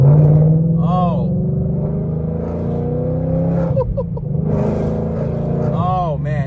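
A 1200hp Whipple-supercharged Ford Mustang Dark Horse with a Tremec manual and wide 345 rear tires drones steadily while cruising through town, its engine hum rising slightly as someone speaks throughout.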